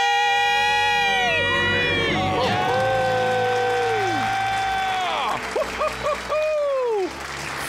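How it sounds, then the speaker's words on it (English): A studio crowd screams and cheers loudly and continuously for several seconds, with overlapping excited voices rising and falling together, celebrating a couple in their thirties becoming debt-free. "Let's hear a debt-free scream."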